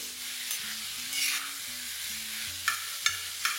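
Chopped onions sizzle steadily in a pan, close by, over a low hum, with a few sharp stirring clacks near the end.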